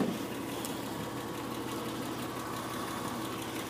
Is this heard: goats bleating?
no